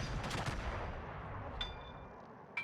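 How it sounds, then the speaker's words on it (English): Naval gunfire volley in the World of Warships video game, a quiet burst of deep booming shots in the first half second followed by fading rumble and a couple of faint later reports. "Long range volley on the Agano."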